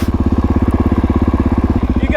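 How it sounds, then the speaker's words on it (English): A dirt bike engine runs close by with a steady, pulsing idle-like throb that holds loud and even throughout, cutting off near the end as a short voice sounds. "I don't think dirt bikes are for me."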